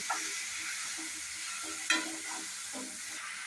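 Soybean, potato, onion and tomato dry curry being stirred in a frying pan, with a constant bright sizzle and repeated soft scraping strokes of the spoon, one louder clack near the middle.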